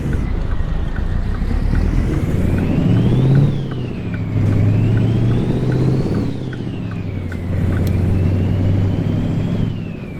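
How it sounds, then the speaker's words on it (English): Heavy truck engine in the American Truck Simulator driving game, a loud continuous drone whose pitch climbs and drops repeatedly through gear changes, with no talking over it. "I was trying to be silent there just for a little while so we can listen to the engine."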